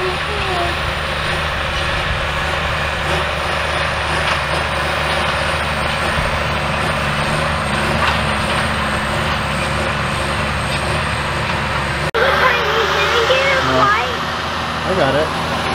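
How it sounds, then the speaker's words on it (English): A big truck drives across a farm field where hay bales are being moved, a steady engine rumble running throughout alongside other farm machinery, with people talking over it. "You see the big truck?"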